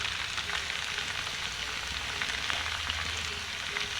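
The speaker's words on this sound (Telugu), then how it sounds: "ఇది బాగా పచ్చివాసన పోయేదాకా బాగా వేయించుకోవాలి" Ginger paste fries in a hot pan for mutton biryani, a constant close sizzle and crackle with no talking.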